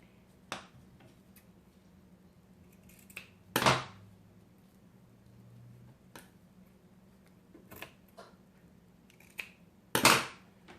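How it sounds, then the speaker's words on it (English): Scissors trimming excess bulky material on a dollhouse miniature bistro set piece, giving a few sharp isolated snips and clicks spaced apart over a quiet background hum, close up with no talk. "so I'm just gonna trim it up there, get rid of it"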